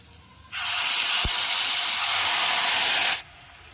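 Prepared gravy is poured into hot oil seasoned with asafoetida, setting off a loud, steady hissing sizzle that lasts almost three seconds and then stops abruptly. No voices.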